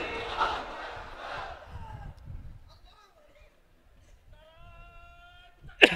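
A large crowd at an Islamic sermon gathering in Khulna roars a loud, massed shout in response to a call, swelling for about two seconds and then trailing into quieter scattered voices and a few distant calls.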